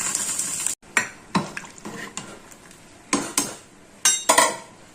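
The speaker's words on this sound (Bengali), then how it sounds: "আবার খিচুড়িটা ফুটে গেছে," Khichuri bubbles and simmers in a pot while a spoon stirs and scrapes against the metal in several sharp strokes over a steady cooking hiss.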